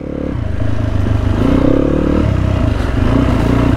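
Enduro motorcycle ridden off-road on a mountain valley trail early in the season, its engine droning steadily and loudly up close, with a rising rev near the middle and clattering from the rough ground throughout.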